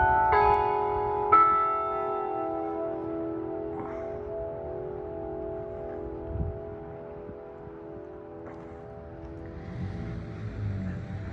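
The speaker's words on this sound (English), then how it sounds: "there the bell strikes for the clock on this building." A building's clock tower bell strikes twice in a city street setting, each loud ringing stroke followed by a long humming decay, with faint traffic and wind below.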